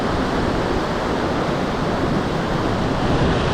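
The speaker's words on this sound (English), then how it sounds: "Right here in the rapids," River rapids rush in a broad, constant roar of churning water, loud and close, with no break or variation throughout.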